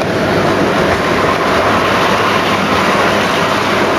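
A model railway train runs along its track in a loud, close, continuous rumble with faint clickety-clack, holding steady from start to finish.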